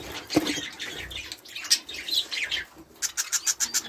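Pet budgies chirp and tweet in short bursts near at hand, with a low thump early on and a quick run of sharp repeated chirps at the end.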